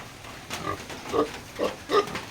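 Pigs in a farm pigpen grunt in four short, fairly close bursts spaced about half a second apart, over quiet background noise and no speech.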